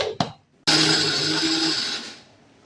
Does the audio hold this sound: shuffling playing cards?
no